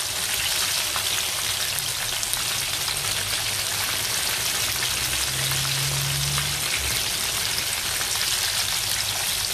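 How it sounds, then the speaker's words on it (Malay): A second batch of mackerel pieces frying in hot oil, giving a loud, steady, close sizzle and crackle that runs unbroken throughout, with a faint low hum briefly rising midway. "Kita goreng ikan batch kedua."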